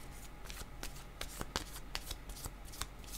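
A deck of playing cards being shuffled in quick riffles and snaps, a series of sharp, close, crisp bursts in an uneven rhythm over a quiet background.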